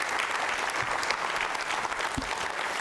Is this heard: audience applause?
yes